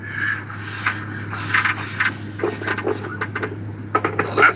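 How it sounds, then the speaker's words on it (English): A faulty engine running with no rocker arms gives off irregular rubbing, scraping and ticking over a steady low hum, fairly close and moderately loud with no talking. "You know you have a bad engine when there's no rocker arms, and this is the noise you hear."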